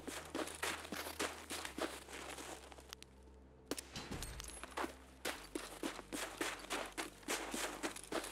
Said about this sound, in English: Tarkov footsteps are so loud